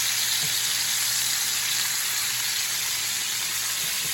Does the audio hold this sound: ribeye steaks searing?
yes